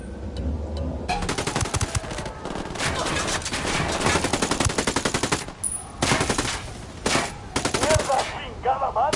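Gunfire in the Ghost Recon Wildlands video game, loud sustained machine-gun bursts with rapid rattling shots, broken by brief pauses and layered with several overlapping weapons.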